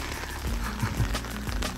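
Heavy rain pours suddenly on the approach to Mount Fatu in the Philippine highlands. It is a dense, steady hiss with a low tonal hum running underneath.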